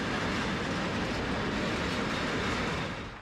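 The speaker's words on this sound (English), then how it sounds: "here's a shot of a freight train instead" A freight train rolls through a Swedish railway station, a loud continuous rumble and rattle of wagons passing close by, steady throughout before easing slightly at the end.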